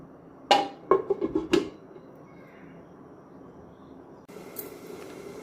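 A lid is set on a cooking pot of curry on a gas stove: several sharp metallic clinks rattle in quick succession, then fade into a quiet, steady background hiss.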